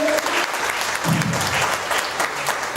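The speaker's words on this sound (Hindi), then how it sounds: "पूरा जोरदार ताली होगा कंपनी के लिए, मैनेजमेंट के लिए" Enthusiastic applause from a gathered crowd for the company and management, a brief burst of dense clapping at steady loudness with a faint voice briefly underneath.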